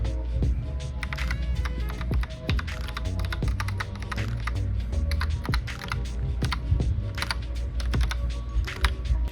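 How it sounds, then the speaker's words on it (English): Rapid, continuous clicking of computer keyboard keys being typed on, close and crisp, with irregular bursts of keystrokes over a low steady hum, no talking. "we all need serotonin in the form of keyboard clicky noises"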